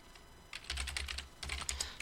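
Quick bursts of keystrokes on a computer keyboard, entering HTML heading tag text, come in two clusters of close, crisp clicks with a short pause between them, and no voice is heard.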